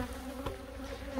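Honey bees swarm around a hive frame as it is shaken, a close, dense, continuous buzzing drone with a brief rise in the middle.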